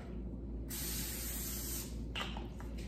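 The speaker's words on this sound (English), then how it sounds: "I'll be spraying this with the butter flavoring" Butter-flavored cooking spray hisses from a can in one steady, close burst lasting over a second, followed by a few shorter spritzes.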